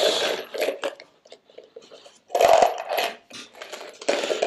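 Metal bolts handled and clinking together in irregular bursts, sharp jingling clatter at close range with short pauses between handfuls, no talk.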